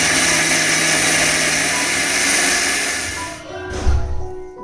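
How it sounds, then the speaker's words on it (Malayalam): A mixer grinder blends cooked broccoli for soup, a loud, steady whirring drone that runs for several seconds before cutting off, followed by a brief clatter. "എന്നിട്ട് നല്ല പോലെ ഒന്ന് ഫൈനായിട്ട് അരച്ചെടുക്കണം മിക്സിയിൽ."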